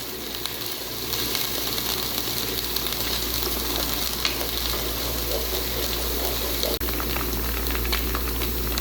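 Ginger and garlic frying in oil in a pot for beef yakhni pulao, a dense, steady bubbling sizzle that holds close and even throughout, with a faint clink midway and no talking.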